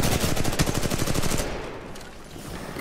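Sustained automatic gunfire in a pre-alpha build of Titanfall 2 during a pilot-versus-pilot match: a loud, rapid, evenly spaced stream of shots for about a second and a half, then fading to softer reverberant ambience.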